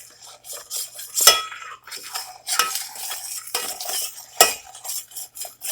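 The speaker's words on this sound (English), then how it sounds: "So just keep stirring for 2 minutes" A spoon scrapes and stirs a thick candy mixture in a pot over a gas stove set to medium-high, with repeated clinking and scraping strokes at close range, no talk.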